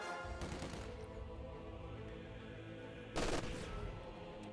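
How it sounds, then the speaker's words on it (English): Machine gun and mortar fire in the Company of Heroes 2 strategy game, rapid rattling bursts under a steady battle din, with a louder burst of fire near the end. "The mortar is going to try to dislodge that MG."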